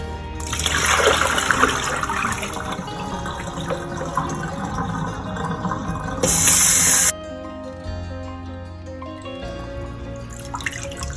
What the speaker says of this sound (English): We're rinsing these off, and we can repeat this process again